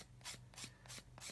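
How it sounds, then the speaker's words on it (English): A sanding stick rubbed over a plastic model part for a Tamiya Land Rover Defender CC-01 kit gives soft, quiet scratchy strokes, about five in a steady back-and-forth rhythm, close up. "we get a sanding stick, just give that a little"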